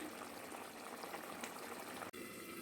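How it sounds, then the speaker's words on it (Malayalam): Water boiling in a pot with rice for prawn biryani, a quiet, steady bubbling simmer heard close, ending in a sudden louder knock. "തിളച്ച വെള്ളം ചേർത്ത് കൊടുത്തത് നന്നായി തിളച്ച് വരട്ടെ"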